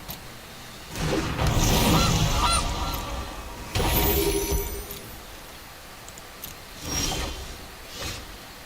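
A goose honks several times in MTG Arena, with loud nasal calls in bursts around the start and middle and fainter ones near the end, over quiet background and no talking.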